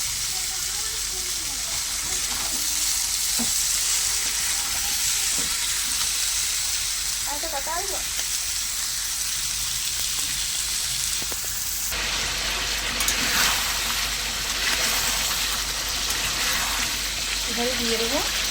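Chicken pieces sizzle and fry in a hot pan for a chicken curry, a steady crackling hiss with occasional stirring scrapes and a louder burst partway through, while a voice talks over it.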